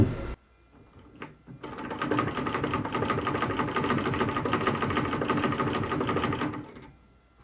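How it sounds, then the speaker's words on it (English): A sewing machine stitches hip padding onto a mermaid skirt in one loud, continuous rapid run after a short pause and a brief tap, then stops abruptly. "I'm just going to sew around it like this."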